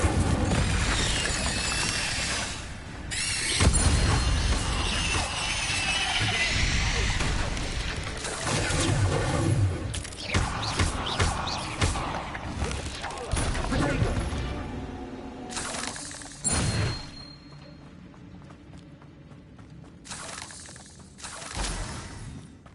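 An Incendio fire spell cast in the Hogwarts video game while exploring the Forbidden Forest, heard as a series of loud booming, crackling bursts over sustained game noise, with speech in between.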